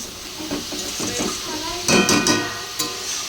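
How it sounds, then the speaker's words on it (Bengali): Red spinach greens frying in a pan, a steady close sizzle with stirring scrapes and a couple of sharper clatters of the utensil against the pan. "এই যে লাল শাক ভাজা বসিয়ে দিয়েছি"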